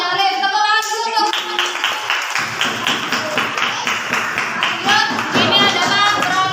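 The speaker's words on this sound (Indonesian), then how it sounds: "Tepuk tangan dulu untuk yang membuat peraturan daerah." A classroom of students claps together in a sustained burst of applause lasting several seconds, loud and close, with a teacher speaking over the start.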